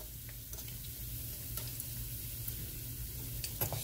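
Salmon patties frying in a pan, giving a faint, even sizzle with a few light ticks and clinks of a utensil.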